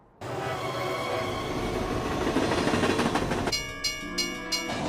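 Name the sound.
train whistle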